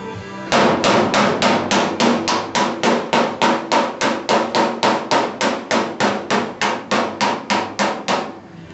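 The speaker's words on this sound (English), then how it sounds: "I'm going to use some hammers and dollies to try to straighten it out a little more." Hammer and dolly work straightening a dented truck body panel, a long run of about twenty-five loud, evenly spaced metallic blows at a brisk steady rhythm, close and alone.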